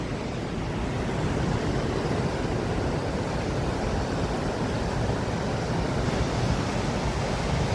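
Snowmelt-swollen Saraswati river water rushes strongly near Mana village in the Himalayas, a steady, loud, unbroken roar of flowing water with no voices.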